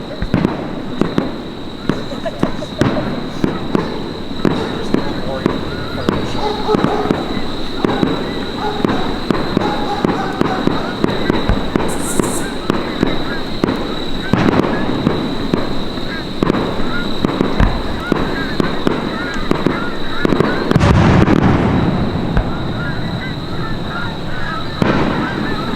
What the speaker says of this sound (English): right now unfortunately we've been interrupted by fireworks